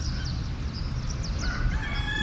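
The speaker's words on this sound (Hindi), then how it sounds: "यहाँ का मुर्गा भी लेट लतीफ़ है, 8 बजे भांग दे रहा है।" A rooster crows far off on a cloudy morning in Himachal, its thin call rising near the end over a loud, rumbling roadside background of engine and wind noise.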